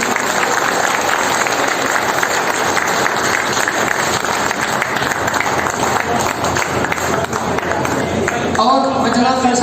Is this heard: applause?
yes